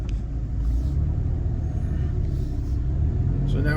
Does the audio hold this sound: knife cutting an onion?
no